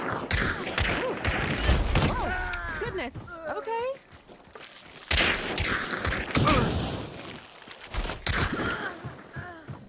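Gunfire in the video game Hunt: Showdown, several sharp shots and thuds scattered through the scene, mixed with other game sounds and people talking over it.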